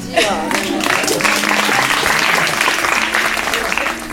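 Wedding guests applaud, a dense steady clapping that fills the room for about four seconds, with a few voices mixed in underneath.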